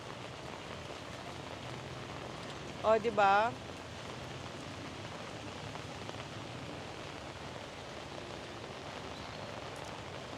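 Heavy rain falls at night in Siem Reap, a steady, even wash of hiss throughout, with a brief voice speaking over it near the start.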